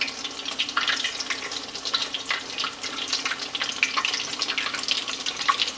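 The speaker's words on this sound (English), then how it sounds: "And just fill the pan up." Tap water runs steadily into a pan, making a continuous hissing, splashing stream that stays at an even, close-up level with no talking.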